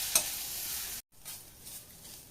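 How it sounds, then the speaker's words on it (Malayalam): Chili powder and ground spices roasting in a pan while being stirred, giving a soft dry hiss and scrape for about a second, a brief cut, then a fainter continued sizzle. "ഇനി പൊടികൾ ആ പച്ച സ്മെല്ല് മാറുന്ന വരെ നമുക്കൊന്ന് ഇളക്കി കൊടുക്കാം"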